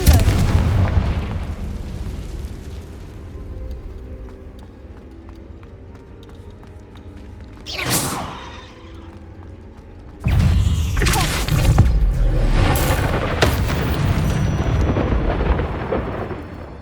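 A Confringo blasting spell goes off in the Hogwarts Legacy video game: a short burst near eight seconds, then a loud, sustained explosive roar with crackling debris from about ten seconds on, over a low rumbling game background.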